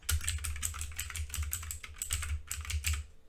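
Rapid keystrokes on a computer keyboard as a formula is typed into Microsoft Excel, close and fairly quiet, in short irregular bursts of clicking with brief pauses between.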